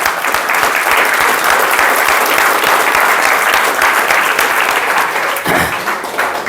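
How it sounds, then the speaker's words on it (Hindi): Audience clapping steadily at a banana farming class, a dense, loud, continuous wash of applause from a seated group that stays even throughout with no voices over it. "एक तालियां बजा करके हम थोड़ा सा जागृत होते हैं।"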